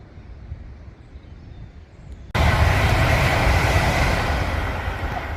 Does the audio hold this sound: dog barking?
no